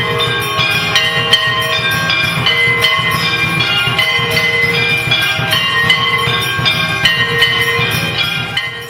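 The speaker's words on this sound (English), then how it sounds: "the arti going on, with the traditional bells and gongs that are played at this time in so many temples" A machine rings temple bells and strikes gongs for an arti ceremony in a Vrindavan temple, producing a loud, continuous, rapid metallic clanging with sustained ringing tones and no pauses.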